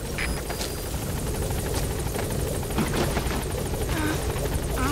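A helicopter in Metal Gear Solid V: The Phantom Pain beats loudly and continuously at close range, its rotor wash a dense, steady roar with faint radio chatter and effects layered over it.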